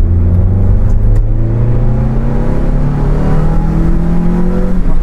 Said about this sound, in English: Like this car sounds so good when you shift it at five.